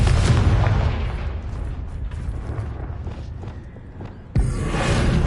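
Confringo explosion spell in the Hogwarts Legacy video game, a loud booming blast that decays into rumble, followed by a second sharp burst near the end.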